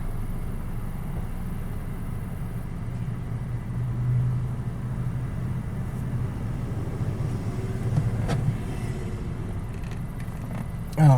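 A Mazda6 engine running, a steady, low, close idle rumble throughout, ending with a brief louder thump; no talking.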